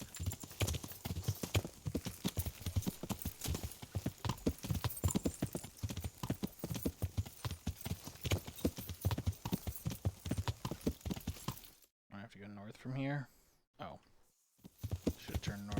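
Horse hooves clip-clop steadily and loudly in the medieval game Kingdom Come: Deliverance, a continuous walking rhythm that cuts out near the end while a voice speaks briefly.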